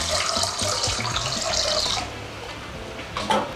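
Water runs from a kitchen tap into a container while preparing a pickling liquid of vinegars and sugar, a steady loud hiss that eases partway through, with a brief splash near the end.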